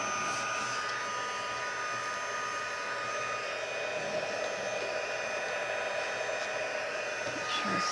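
Hot-air heat tool used in card making blows continuously, a steady close whooshing rush of air with a faint motor hum throughout, no talking.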